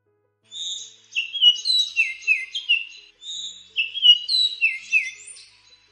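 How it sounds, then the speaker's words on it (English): A sparrow chirps in two clear, close bursts of quick bright notes separated by a short pause, heard alone in otherwise quiet surroundings. "A sparrow chirps."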